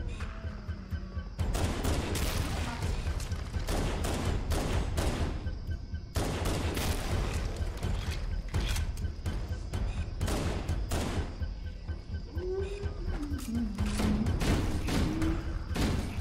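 Rapid gunfire from the Halo: Combat Evolved Anniversary video game on Legendary difficulty, a dense barrage of sharp, loud shots in long rapid bursts with brief pauses, plus alien chirping cries in the background.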